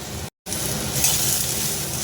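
Karamcha fruit frying in a pan with turmeric and salt, a steady close sizzle with stirring scrapes that continues after a brief cut of silence near the start.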